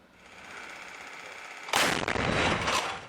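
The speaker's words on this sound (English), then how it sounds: "Ukrainian artillery opens fire on Russian positions, a battle that rages on" Ukrainian artillery fires on Russian positions. A quiet hum gives way to one sudden loud boom that rolls into rumbling echoes for over a second.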